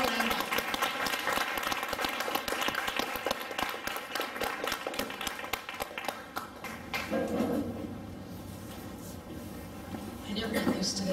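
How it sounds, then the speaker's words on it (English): Applause from a recital audience fills the room in a dense, sustained burst of clapping that thins out toward the end, with some talking mixed in. "So please, a very big round of applause for 2 amazing ladies, Danielle and Megan Zaremba."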